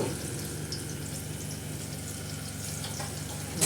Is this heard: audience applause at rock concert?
no